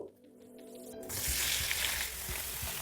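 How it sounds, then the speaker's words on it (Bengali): Raw mango hits hot mustard oil with panch phoron, and a faint crackle swells into a loud, steady, close sizzle with small pops that lasts to the end. "তারপর তাতে দিয়ে দিচ্ছি দেড় চা চামচ পাঁচ ফোড়ন তারপর একবার ভালো করে মিশিয়ে নিন আমটাকে এখানে দিয়ে দেবো"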